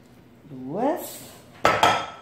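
A spoon works sifted cornmeal into a wheat-flour dough for cornmeal rolls in a bowl, ending in two sharp clinks against the bowl, with a short voice just before them.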